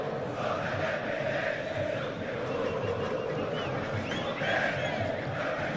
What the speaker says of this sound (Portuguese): E a torcida do São Paulo aproveita para cantar.